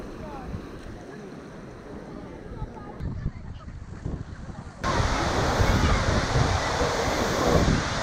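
Surf breaking on a beach in Ocho Rios, Jamaica, a steady wash of waves with wind buffeting the microphone, growing louder and fuller halfway through.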